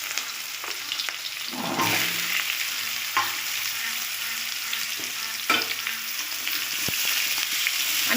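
Potato, pointed gourd and spiny gourd fry in hot oil with a loud, steady sizzle close up, broken by a few spatula knocks and stirring scrapes, no talking.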